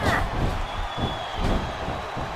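Capacity wrestling arena crowd in SmackDown vs. RAW 2007 roaring in a continuous dense wash of cheers, with a brief whoop near the start and commentary voices over it.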